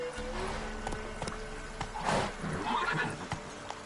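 A horse whinnies loudly in Witcher 3, with a rising neigh over a run of clip-clopping hooves at a gallop.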